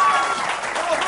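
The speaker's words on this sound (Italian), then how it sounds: "Un applauso a lei" A studio audience applauds briefly and steadily, welcoming a guest onto an Italian game show; the clapping is continuous and moderately loud.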